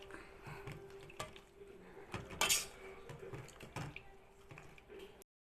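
Metal utensils scrape and clatter in a pot with soft thuds as boiled vegetables are mashed, a few louder knocks midway, no talking.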